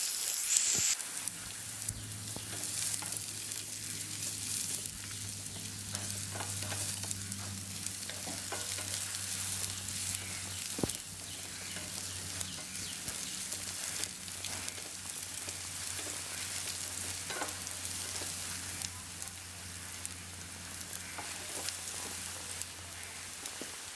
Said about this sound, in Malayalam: ഒരു ഉള്ളിയാണ് എടുത്തിട്ടുള്ളത് ഇതൊന്ന് ചെറുതായി കട്ട് ചെയ്തിട്ട് ഇതിലേക്ക് ഇട്ട് നന്നായിട്ടൊന്ന് വഴറ്റിയെടുക്കുക